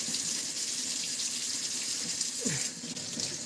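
Water streams steadily from a running kitchen faucet while a spatula is washed underneath, a close, continuous splashing hiss with a brief shift in the flow near the end.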